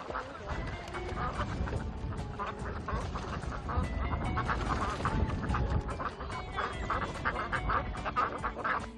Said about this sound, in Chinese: 为了抓到当地的麻鸭